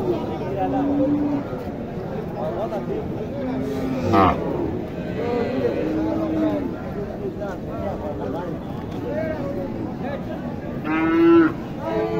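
Sahiwal cattle moo at a busy cattle market, with several drawn-out lowing calls, one loud and close, heard over a constant background of crowd chatter and people talking nearby.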